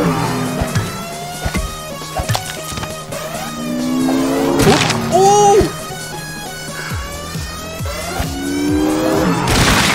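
Cars in the video game Madness: Project Nexus rush past in steady traffic, with engines revving and tires squealing, loud and continuous over about ten seconds.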